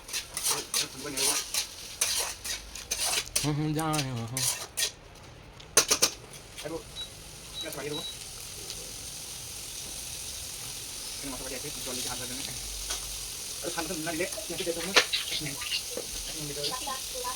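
Frying and stirring in a kitchen where onions and tomatoes are being cooked: clattering pots and utensils with intermittent sizzling, mixed with people talking nearby at times.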